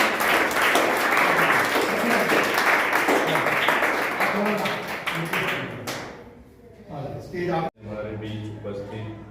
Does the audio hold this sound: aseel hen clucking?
no